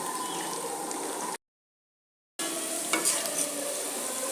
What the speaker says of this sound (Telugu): దీన్ని బాగా వేయించుకోవాలండి.